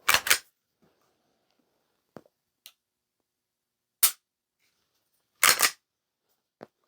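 Glock 47 pistol fitted with a performance trigger dry-firing: a handful of sharp, crisp isolated clicks spaced a second or two apart, with a few fainter mechanical ticks between them, close and otherwise quiet.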